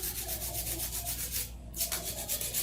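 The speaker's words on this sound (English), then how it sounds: "For that, I'm gonna do a little bit of hand filing." A hand file rubs back and forth over acrylic nail powder on a fingernail, giving even, close scratchy strokes in a steady rhythm with a brief pause partway through, and no voice.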